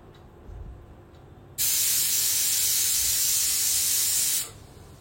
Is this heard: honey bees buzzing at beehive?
no